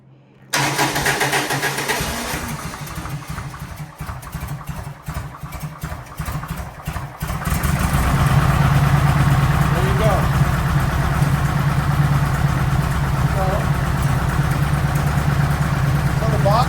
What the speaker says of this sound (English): you just push the starter switch